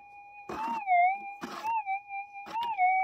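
A Minelab GPX 6000 metal detector gives a steady two-tone electronic warble over a loud lead target, wavering slightly in pitch the whole time, cut by brief scraping bursts of digging or sweeping.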